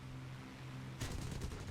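Aircraft cannons fire in War Thunder during a dogfight, a sudden rapid burst of shots that starts partway through and repeats in quick succession over steady engine drone, with no talking.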